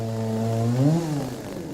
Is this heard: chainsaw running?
yes